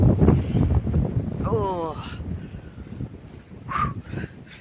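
Strong wind gusting between houses, with heavy low buffeting on the microphone that is loudest at the start and then eases. A brief voiced exclamation breaks in partway through.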